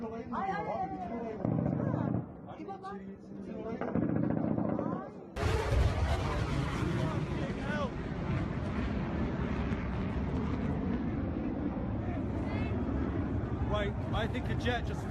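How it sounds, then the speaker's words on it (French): A military jet roars low overhead during the July 2016 coup attempt in Turkey, with a sudden loud blast midway followed by a sustained heavy rumble; voices murmur in the quieter opening. "I think a jet just flew really close to us and there was a loud explosion"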